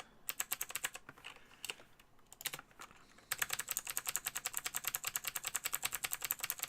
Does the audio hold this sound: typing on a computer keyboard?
yes